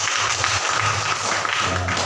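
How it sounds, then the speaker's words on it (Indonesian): A church congregation at an evening worship service claps together in a steady, continuous wash of hands, fairly loud, with a low hum underneath and no clear speech. "Tepuk tangan dulu bagi Tuhan."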